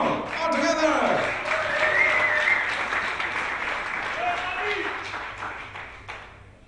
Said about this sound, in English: send them to the line with the biggest applause you have